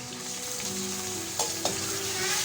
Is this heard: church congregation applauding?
no